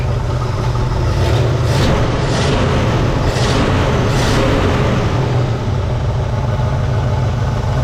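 Steady idle of a 1963 Pontiac Catalina engine after its ignition timing was set to 10 degrees, a continuous close, even low rumble with no talking over it.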